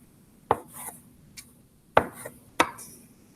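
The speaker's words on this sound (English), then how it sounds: "I'm going to go ahead and I'm going to cut those into 4s" A knife chops through soft biscuit dough for monkey bread, three distinct close thuds on a board spaced unevenly, with faint lighter taps between them and no talking.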